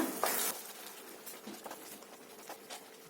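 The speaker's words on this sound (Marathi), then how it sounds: "ग्रेव्हीला मस्त उकळी आली बघा." Aamti curry gravy bubbles in a cooking pot, giving a soft, faint, irregular patter of small pops and bursts with no talking over it.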